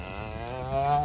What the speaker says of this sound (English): here's the cows coming for the new pen